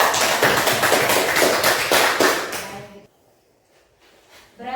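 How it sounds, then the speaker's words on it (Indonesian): A classroom group claps for student presenters after their group discussion report, a dense burst of applause that fades out, followed by a short lull and a faint restart. "Berikan aplaus untuk"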